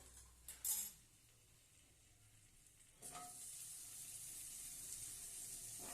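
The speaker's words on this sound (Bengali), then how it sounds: "এটাকে অল্প লাল করে ভেজে নেব, বেশি ভাজবো না" Paneer lands in hot oil and fries with a steady, close sizzle that swells after a brief clatter of stirring and then holds on without break, with no voice heard.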